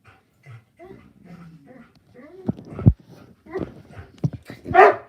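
An excited dog giving a run of short, yipping barks and whimpers, close by and moderately loud, with a few sharper bursts toward the end.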